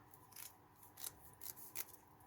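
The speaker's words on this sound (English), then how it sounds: "There's my paper scissors, here we go." Paper scissors snipping through paper, four or five short, crisp cuts in a quick, uneven rhythm, close and quiet, with no talking.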